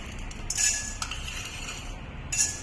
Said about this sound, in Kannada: ಈಗ 3 ಸ್ಪೂನ್ ಅಷ್ಟು ಕಡಲೆಬೇಳೆ ಹಾಕ್ತೀನಿ